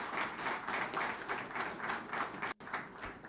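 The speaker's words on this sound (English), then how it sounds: "that deserves a round of applause to our Honourable Minister, Shri KT Ramarao" Audience applause for a minister at an airport cold chain centre launch in Hyderabad, a steady pulsing wash of clapping heard at moderate distance, briefly cut out by a short dropout near the end.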